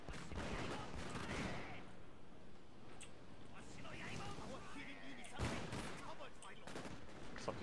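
Troops fire guns in the Shogun 2 Total War video game, producing dense, rumbling volleys of distant gunfire with a few sharper cracks, under a speaking voice.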